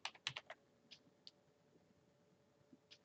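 Typing on a computer keyboard while entering a tolerance value in CATIA 3D Experience: a quick cluster of sharp key clicks at the start, then a few scattered, fainter taps, close and quiet with no talking.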